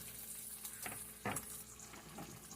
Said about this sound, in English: Still frying my bacon.